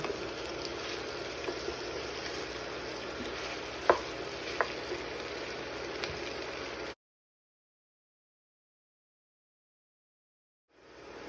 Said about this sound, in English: And we're just gonna let this fry now for 5 to 10 minutes